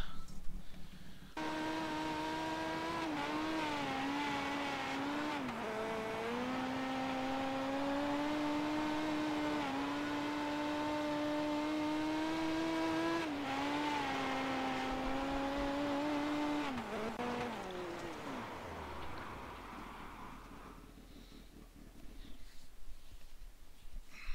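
Simulated dirt midget racer from iRacing howls at steady high revs, dipping briefly on lifts and swelling again, then fading away near the end with no one talking.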